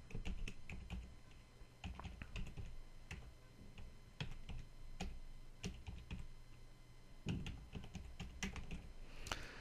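Typing a web address on a computer keyboard, quiet close clusters of key clicks in irregular bursts with brief pauses between them, no speech.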